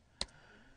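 A single sharp computer keyboard keystroke while typing a web address, one quick isolated click followed by quiet room tone.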